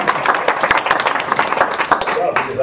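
An audience applauds a newly welcomed opera-trained singer at a vocal mastery presentation, a dense, steady wash of many hands clapping with a few sharper claps standing out throughout.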